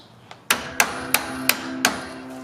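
A hammer taps out the door stopper pin on a 1988–91 Honda Civic/CRX front door, giving five sharp metallic strikes in an even rhythm, close and loud, after one faint lighter tap.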